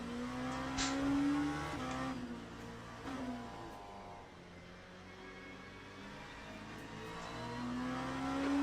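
An LMP2 prototype race car in the Le Mans Ultimate sim at Spa during an ELMS practice session, its engine tone climbing and falling through upshifts and downshifts, steady and close throughout with no talk.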